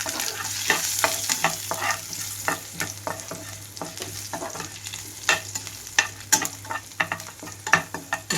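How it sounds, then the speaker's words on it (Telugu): Crushed garlic cloves and turmeric added to hot tempering seeds in oil, frying with a steady sizzle and repeated sharp scraping clicks of a spoon stirring the pan, close and fairly loud. "ఇక్కడ తాలింపు గింజలంతా కలర్ మారేటప్పుడే కొద్దిగా నలకొట్టి పెట్టుకున్న వెల్లుల్లి రెమ్మలు, అలాగే కొంచెం పసుపు వేసేసుకుంటున్నాను."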